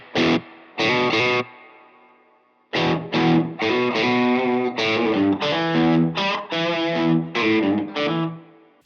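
Electric guitar through a pedal and amp with the carpet room effect switched off, distorted chorus-tinged notes and chords in short phrases separated by a brief pause, loud and close with no voices.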